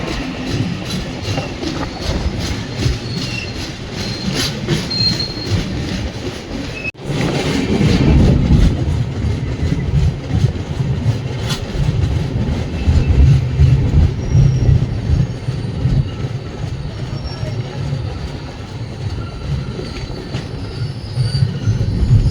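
A train pulls into Sedam railway station on the Bengaluru to Bidar route, loud and continuous, with rumbling wheels, clattering over rail joints and squealing as it slows.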